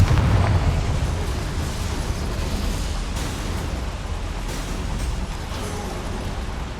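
A Confringo fire spell bursts into flame to light boilers in Hogwarts Legacy, a loud, sustained, roaring blast that starts strongly and slowly fades over several seconds, with no talking.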